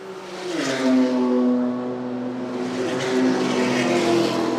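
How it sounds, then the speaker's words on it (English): Race cars at a QRDC club race meeting accelerate through turn 6 onto the straight, engines rising in pitch with revving shifts, loud and fairly near, overlapping as they pass. "Cars coming through turn 6 onto the straight"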